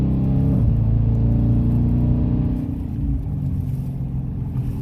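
A Dodge Challenger R/T driving with a steady, loud low engine rumble from inside the car, a brief rise in pitch early on, then settling into an even drone.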